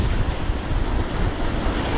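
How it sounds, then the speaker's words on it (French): Steady rush of sea waves mixed with gusting wind buffeting the microphone, continuous and fairly loud throughout, with no voices. "Mais avec une mer comme ça, un petit peu de vent,"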